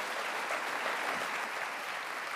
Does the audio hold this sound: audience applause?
yes